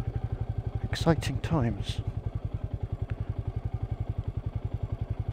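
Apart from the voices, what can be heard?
Royal Enfield Meteor 350 motorcycle riding off-road downhill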